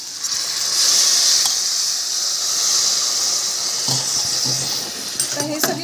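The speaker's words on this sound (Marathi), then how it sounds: "तर हे सगळी भाजी शिजवायसाठी मी 1 कप पाणी आत्ता घातलंय." Water pours from a cup into a cooking pot of vegetables for masale bhat, a steady hissing splash lasting several seconds before it tapers off into a few faint clinks.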